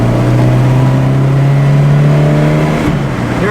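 A 1967 Ford Cortina GT engine holds a steady high rev of about 4,500 RPM while cruising downhill on a highway, a loud continuous drone inside the car with a brief dip near the end.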